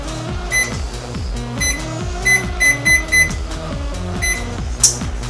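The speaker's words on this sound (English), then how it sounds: "you just put it back on the microwave" A microwave oven being set and started, a series of short electronic beeps in uneven groups over a low steady hum, close and clear, with no talk.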